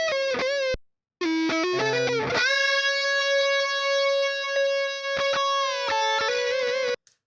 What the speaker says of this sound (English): I just thought these solos sounded great without any reverb. I think they sounded great dry.